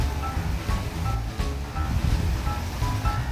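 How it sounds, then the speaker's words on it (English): A water fountain at Elvis Presley's birthplace in Tupelo, Mississippi splashes steadily with a broad, noisy wash, continuous and fairly close, with no talking. "Water fountain back there"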